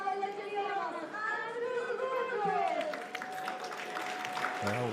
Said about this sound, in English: Shout as Andreas Gudzius is introduced to the crowd.